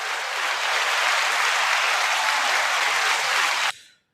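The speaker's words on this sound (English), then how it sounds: "I guess we can clap for that." Dense, even clapping with a bright hiss, as if from a sound effect, plays steadily for over three seconds and then cuts off abruptly.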